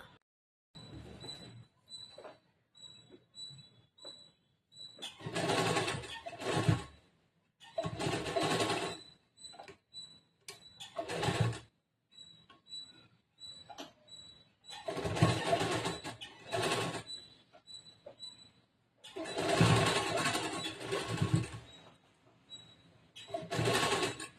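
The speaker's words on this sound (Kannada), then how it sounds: "ಸ್ವಲ್ಪ ನೋಡಿಕೊಂಡು ಸ್ಲೋಲಿ ಸ್ಟಿಚ್ ಮಾಡಿ ಈ ಥರ ಸ್ಟಿಚ್ ಮಾಡಬೇಕು" A sewing machine stitches a boat-neck blouse in several separate runs of steady rapid whirring, with short pauses between bursts, close and clear with no voices.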